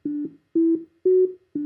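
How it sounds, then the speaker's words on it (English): A simple musical tune of plain, low, steady tones, all in one octave, played as evenly spaced paired notes in a regular rhythm, clear and alone. "here is the tune with all the tones played in the same octave"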